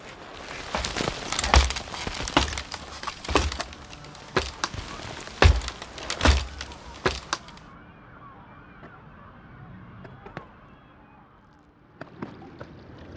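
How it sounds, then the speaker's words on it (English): In a video game, a ladder is set against a rocky cliff and its legs are driven into wet sand, heard as a series of irregular knocks and thuds over a faint watery background, loud early, then quieter. "Argonus places the ladder against the rocky cliff before driving the legs into the wet sand"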